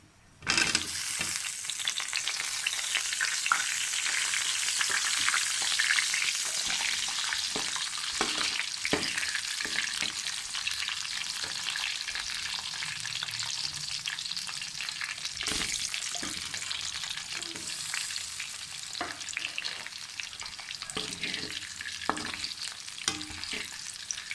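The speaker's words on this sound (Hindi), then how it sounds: "अब हमने उसी ऑयल में 6-7 मिनट आलू फ्राई करने हैं।" Potato pieces frying in hot oil in a pan give off a steady, bright sizzle that runs unbroken for over twenty seconds, with faint scrapes of stirring now and then and no voices.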